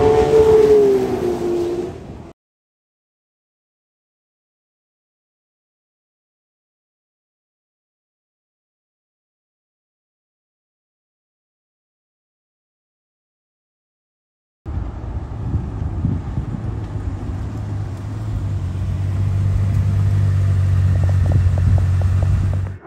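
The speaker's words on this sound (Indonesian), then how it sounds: "jadi ini dia Ferrari 12 cilindri" Ferrari 12Cilindri V12 engine heard while driving, a steady low rumble with wind noise that starts abruptly after a long silent gap and holds loud and even to the end; a brief sound opens the clip before the silence.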